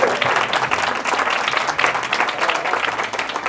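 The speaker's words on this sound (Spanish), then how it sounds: "Otro aplauso, por favor" An audience at a student awards ceremony breaks into lively applause, with many hands clapping in a dense, slightly uneven burst that stays strong across the few seconds.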